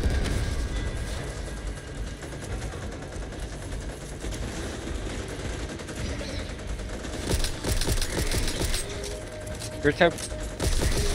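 Gunfire in the zombie shooter Back 4 Blood rattles in busy bursts beneath steady players' chatter, with a couple of sharper, louder shots near the end.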